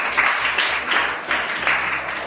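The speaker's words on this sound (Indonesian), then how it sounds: "Jadi tepuk tangan dulu untuk semuanya." A room full of people clapping steadily in a classroom, a dense patter of hand claps rising and falling in waves, with no voices over it.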